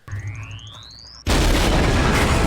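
Tank explosion in Star Wars: The Bad Batch: a rising whine and low rumble, then a sudden loud boom that opens into a sustained roaring blast through to the end.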